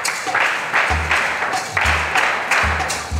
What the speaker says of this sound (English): Church, let's clap for them.